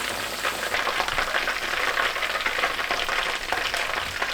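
Chicken pakoras fry in hot oil, producing a loud, dense, unbroken sizzle and crackle heard up close throughout.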